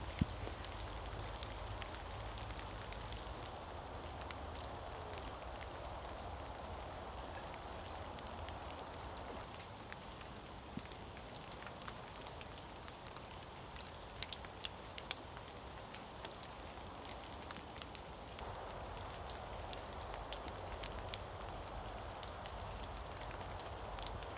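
Rain falls outdoors at a bushcraft site where an Iron Age roundhouse is being built with hand tools, a quiet, steady patter with occasional faint drops and no talking.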